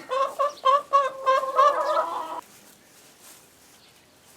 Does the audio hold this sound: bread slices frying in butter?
no